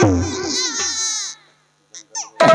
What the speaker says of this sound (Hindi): कोई मासूम बच्चा रो रहा है।